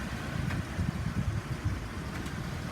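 A 2002 Dodge Ram 3500 utility truck with a 5.9 liter gas engine and 138,000 miles runs, giving a steady low, rumbling idle heard close and alone.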